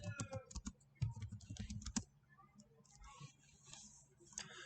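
Keys clatter on a computer keyboard as a search topic is typed, a quick dense burst of clicks for about two seconds, then lighter scattered taps with faint background noise.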